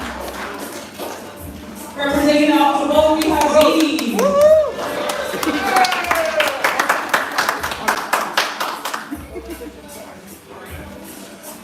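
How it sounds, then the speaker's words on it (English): Audience clapping at a family lip sync battle youth show, brief claps and taps under a host's amplified voice announcing a performer, with crowd noise and scattered clapping continuing after the announcement. "So, everybody get a round of applause."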